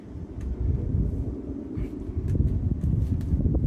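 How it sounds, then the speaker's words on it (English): Gusty wind buffets the microphone, a low rumbling roar that swells and dips, with a few faint clicks. "It is a bit windy today"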